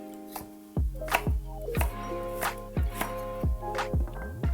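A kitchen knife chops carrots on a cutting board while a holiday meal is prepared, giving a steady series of sharp, close knocks roughly every half second, loud and alone.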